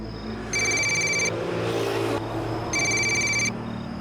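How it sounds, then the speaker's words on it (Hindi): A telephone rings in two long electronic bursts with a short gap between them, loud and close over a low background hum. "तेरी बहन का फोन आया"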